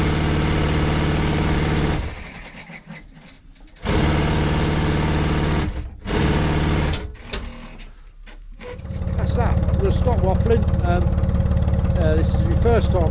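A sewing machine stitches embroidery aboard a narrowboat with a steady, loud mechanical whirr. It runs in long bursts broken by brief pauses, then continues more busily at the end.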